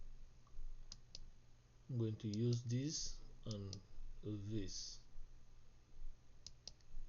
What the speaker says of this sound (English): I'm going to press Ctrl on my keyboard and then click here